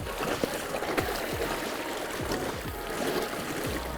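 A CityCoco Connect electric scooter with dual-wheel drive wades through a river, producing steady rushing and churning water with splashes, continuous and fairly close, with no talking.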